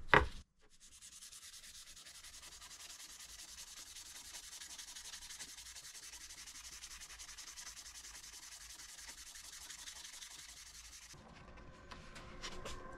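Wooden sliding bevel sanded by hand with sandpaper, a steady soft rasping rub that runs on evenly for about ten seconds after a brief knock at the start, close and quiet, with no talk.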